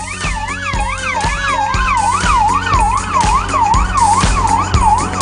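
A Korean fire truck's siren: a loud, rapid yelping sweep up and down repeatedly, with a rhythmic thumping engine-like pulse underneath, close and continuous.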